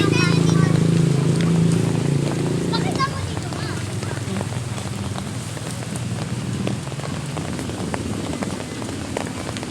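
Heavy rain pours steadily in a loud, continuous wash, with a voice and some other noise over it in the first few seconds before the downpour carries on alone.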